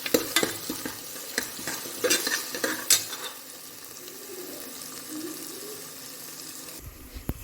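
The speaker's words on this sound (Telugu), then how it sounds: "బాగా ఆయిల్లో ఫ్రై చేసుకోవాలి." Ginger garlic paste fries in hot oil with a steady sizzle while a utensil stirs and scrapes the pan in sharp clicks, close and without talk.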